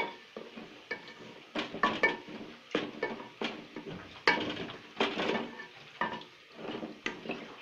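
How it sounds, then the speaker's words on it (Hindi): Tomatoes go into a pan of golden-browned onions and garlic, sizzling and frying under repeated scraping stirs and clattering utensil strokes against the pan, close and moderately quiet, without speech. "अब इसमें टमाटर डालेंगे।"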